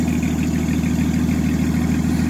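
A 1964 Chevelle's engine idles steadily, a loud, continuous low rumble with a constant throb and no breaks or voices.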